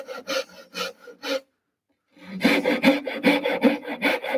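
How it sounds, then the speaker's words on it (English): A steel-backed Japanese hand saw cuts through wood in steady rhythmic strokes. A short burst of rasping strokes is followed by a pause, then a faster run of close, crisp sawing. "Now, the Japanese saw we've got has got steel back, so it gives it a bit more strength."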